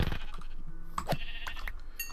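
Minecraft sheep bleating in the video game, a few short wavering bleats spaced across a quiet background, fairly close and clear with no talk.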